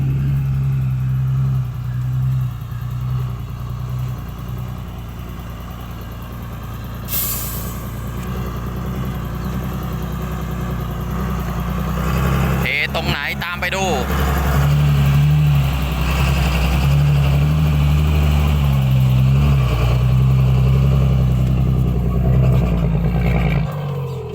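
A ten-wheeler truck's diesel engine idles at a sand stockyard, a steady low rumble held close and loud throughout, with a brief rise in rattle and revving partway through.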